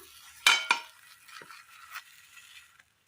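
A spoon scoops a cooked mixture from a pan into a vessel in a Kerala kitchen. Two sharp metal scrapes and clinks come up close, followed by a few softer scrapes and taps.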